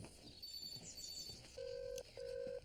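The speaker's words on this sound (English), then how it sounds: "If you are there, pick up the phone." A telephone sounds in two even electronic bursts near the end, each roughly half a second long, following a quieter stretch of soft background noise with no voices.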